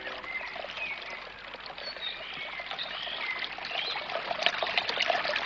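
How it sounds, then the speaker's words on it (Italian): Ice-cold water trickles and splashes from a mountain fountain in a continuous, fairly soft, bubbling dribble, rising slightly toward the end, with no voices. "A casa ci vorrebbe una fontana come questa con acqua gelata."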